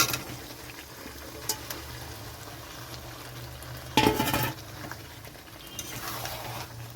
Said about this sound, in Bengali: তো এখানে আমি ভেজে রাখা মাছ দিয়ে দিচ্ছি।